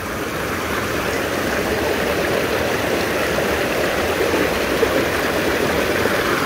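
Standing in the middle of a river at El rincón de la Trucha, water rushes over stones in a loud, steady, unbroken roar with fine splashing texture throughout.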